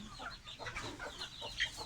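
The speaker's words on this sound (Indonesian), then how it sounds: "Ayam tengah makan." Chickens feeding outdoors on Sabang Island, with soft clucking and scattered pecking sounds over a quiet, steady background.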